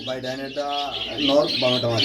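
Black beauty pigeons call close by in a loft, a few rough, harmonic coos and squawks in quick succession, fairly loud with no talk over them.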